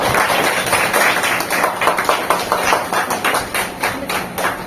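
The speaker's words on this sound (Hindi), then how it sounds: "अब बढ़िया जोरदार तालियां होनी चाहिए।" A village women's self-help group meeting audience claps together. The applause is steady, rhythmic and loud, with closely spaced claps that keep up for several seconds and no talk over them.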